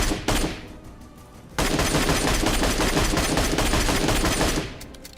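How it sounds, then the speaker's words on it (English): A MK12 marksman rifle fires in PUBG Mobile, with rapid loud shots running in dense bursts: a short volley, a brief lull, then a sustained stream of gunfire that fades near the end. "for the first time ever, the MK12 has debuted in PUBG Mobile"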